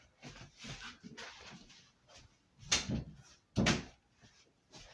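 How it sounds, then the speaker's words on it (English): A door is shut indoors, with a couple of distinct knocks and thumps of moderate loudness near the mic and no talking over them. "let me close this door."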